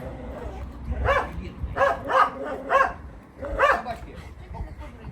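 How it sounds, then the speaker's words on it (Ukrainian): A dog barks in a yard in a quick series of sharp barks, fairly close, over background noise and some voices. "Собака!"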